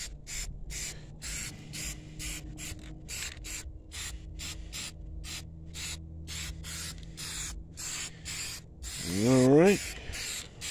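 Aerosol spray paint hissing in short repeated bursts as black paint goes onto the rims of a turbocharged 1993 CB7 Honda Accord, steady and close, with a brief spoken remark near the end.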